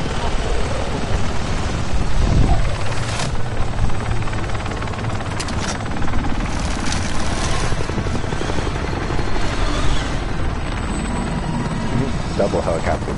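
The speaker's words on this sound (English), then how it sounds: "cool helicopter glitch" A helicopter in Call of Duty Warzone drones with a steady, loud rotor and engine roar that persists the whole time, while players chat over it.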